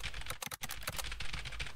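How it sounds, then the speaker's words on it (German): A computer keyboard is hammered at high speed, with fast, close keystrokes blurring into a steady clatter and a momentary break partway through. "Da muss ich jetzt einfach wie verrückt auf die Tastatur drücken."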